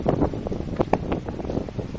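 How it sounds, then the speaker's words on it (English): Gusty wind buffets the microphone on a warm beach at a resort on Roatan, Honduras, a steady rumble with short stronger puffs throughout and no speech. "It is a little windy today, but not too bad."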